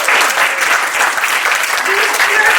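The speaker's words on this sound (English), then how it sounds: "I'd like to applaud" Audience applauding at an appreciation gathering, a dense, loud, continuous wash of clapping from many hands filling the whole stretch, with faint voices mixed in.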